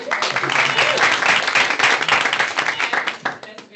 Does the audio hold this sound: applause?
yes